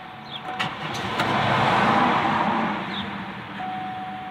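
A 2003 Chevy Impala LS Sport with the 3800 engine runs steadily at close range, a smooth mid-range hum that rises slightly in the middle and then settles, with no talking.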